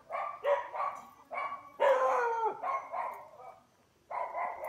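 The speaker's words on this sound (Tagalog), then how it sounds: "Katakot ang mga aso guys" Several dogs bark in repeated bursts along a road at night, fairly close, with one longer, harsher bark in the middle and short pauses between volleys.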